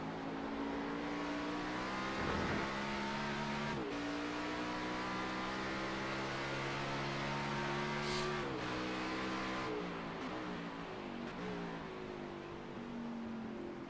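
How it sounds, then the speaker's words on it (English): Race car engine downshifting at Watkins Glen in a racing video game, with sharp blips between gears over a loud, sustained engine whine and brief tire noise, close and continuous. "Interesting, a downshift here."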